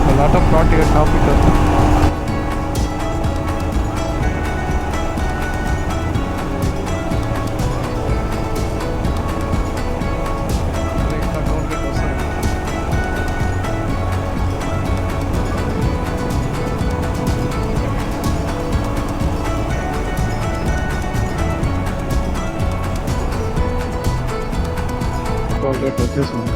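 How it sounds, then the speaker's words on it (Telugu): Dense road traffic on a highway approaching Vijayawada: a steady, loud wash of engine and tyre noise with no breaks, heard from inside or beside a moving vehicle. "ట్రాఫిక్ ఇక్కడ కూడా బాగానే ఉంది"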